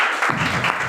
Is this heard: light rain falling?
no